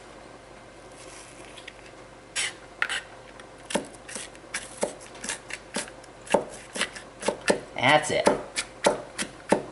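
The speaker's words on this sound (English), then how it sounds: "I'll probably cut up about a quarter of a cup of, I like onion, about a quarter of a cup of onion" A knife chops onion on a cutting board, starting with a few scattered strikes and then settling into a fast, regular run of sharp taps, close by. One brief spoken remark comes near the end.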